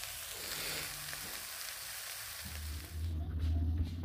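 Radish with small shrimp fries in a pan, making a continuous close sizzle and crackle that swells slightly louder toward the end.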